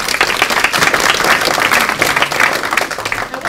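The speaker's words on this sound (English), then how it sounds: "Round of applause, please." A seminar audience gives a round of applause, dense overlapping clapping that stays steady and loud throughout with no speech over it.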